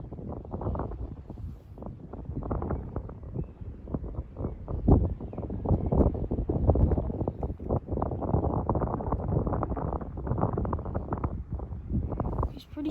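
Strong wind gusts across an open airfield at Jersey airport, a steady loud roar buffeting the microphone for the whole stretch, with brief surges in force and a low rumble underneath.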